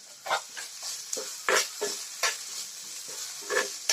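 Crushed green chili and ginger being sautéed in a pan for rava paniyaram, a steady sizzle with repeated scraping stirs of a spoon at an irregular rhythm, close and clear with no talking.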